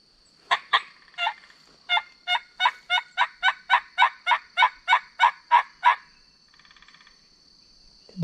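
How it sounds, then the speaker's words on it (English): Wild turkeys in spring season gobbling in a long rapid series of sharp, evenly spaced calls, fairly near and loud in the open, then fading off into quiet outdoor air. "they'll give you one gobble at a new sound"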